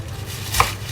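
A knife slices through a bunch of fresh, muddy spinach in one quick, crisp cut against a cutting board, close and clear with no talking.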